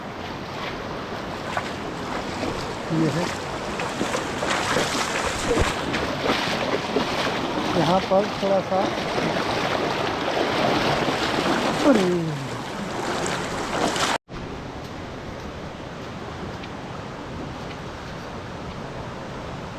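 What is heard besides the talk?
river water flowing while crossing a river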